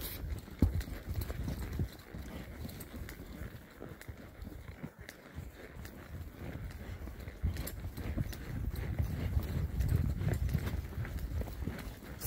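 Horse hooves clip-clop steadily on a trail ride, a continuous rhythmic clatter of several hoofbeats close by, with a faint voice in the background.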